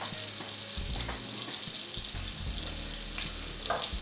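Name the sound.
chicken pieces frying and being turned in a pan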